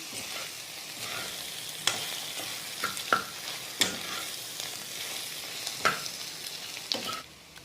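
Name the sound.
taro (arbi) frying with spices and kasuri methi in pan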